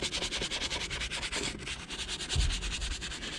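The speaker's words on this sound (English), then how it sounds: "I'm scrubbing it to a suds" A soft bristle brush scrubs vinyl and rubber in a car interior lathered with Chemical Guys interior cleaner, making quick rhythmic back-and-forth rasping strokes, close and fairly soft, with no talking.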